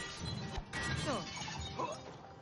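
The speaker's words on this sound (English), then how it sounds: "You want to smash the bottles for me." Glass bottles shatter in the video game It Takes Two, a couple of sharp crashes and clinks mixed with game effects, while a voice briefly talks over the action.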